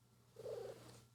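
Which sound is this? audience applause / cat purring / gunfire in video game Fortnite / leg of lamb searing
cat purring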